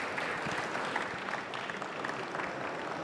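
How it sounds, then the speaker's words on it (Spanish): Audience applause at a supply-chain and OEM conference panel, a short burst of steady, dense clapping from a seated crowd, fairly distant and even throughout. "Les pido un fuerte aplauso."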